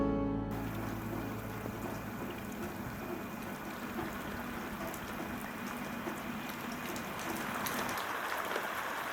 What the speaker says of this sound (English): Sometimes in Montenegro, it rains.